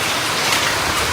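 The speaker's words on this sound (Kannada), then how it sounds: "ಮಳೆ ಬೇರೆ ಬರ್ತಾ ಇದೆ." Steady rain falling around a home garden with a small plant nursery, a continuous broadband patter close by with no breaks and no voices.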